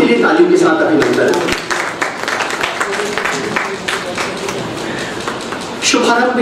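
Audience applause at a book launch ceremony in an auditorium, a steady wash of clapping that fills most of the clip, rising again near the end, with a voice speaking over it.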